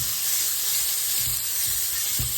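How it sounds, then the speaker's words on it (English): Sausage and melting Crisco sizzle loudly and steadily in an iron skillet, a bright continuous hiss with a few soft knocks underneath and no voices. "so right now we have our sausage in our skillet. We're going to just put a little bit of Crisco in there."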